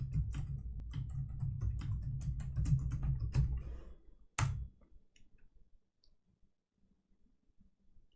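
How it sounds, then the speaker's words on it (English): Quick bursts of computer keyboard typing enter a Wi-Fi password, a close, dense run of clicks for about four seconds, then a final louder key press and near silence. "Type in my super secret password."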